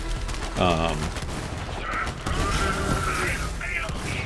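Shotgun blasts firing flak rounds in Borderlands 3, dense repeated bursts layered with game effects and a talking voice across the busy, continuous battle mix.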